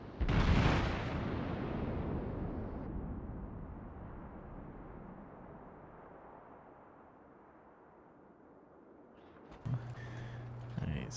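A large battleship's main guns in World of Warships, heavy naval artillery fire opening with a loud booming blast that rolls into a long fading rumble, followed near the end by softer game sounds.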